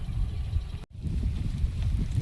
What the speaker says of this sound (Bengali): এখন মোটামুটি বৃষ্টিটা নেই, হাওয়া হচ্ছে